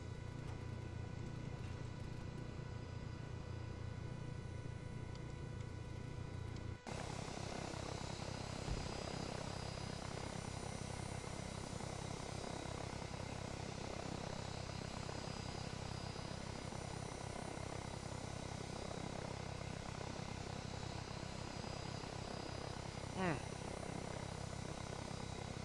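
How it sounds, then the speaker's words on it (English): V-44 Blackfish tiltrotor aircraft from Arma 3 in flight, a steady loud engine and rotor drone that holds for the whole stretch, stepping up in intensity after a few seconds, with no talk over it. "Blackfish does look good when she's flying like a plane."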